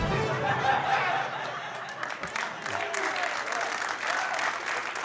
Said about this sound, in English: Why are y'all clapping at that?